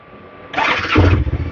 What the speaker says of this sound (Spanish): arrancamos la moto